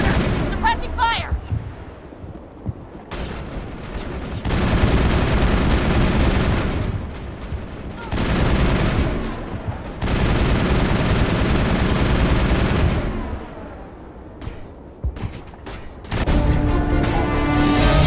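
Sustained suppressing gunfire and heavy booming blasts in the sci-fi shooter Mass Effect, coming in long, loud sustained stretches with short gaps, mixed with game sounds and voices talking.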